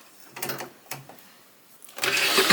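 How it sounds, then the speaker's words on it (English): A sewing machine stitching a fabric scrunchie runs in short bursts, two brief whirring runs near the start, a pause, then a louder sustained run of stitching close by. "I'm just gonna finish sewing here and then leave a bit of a gap."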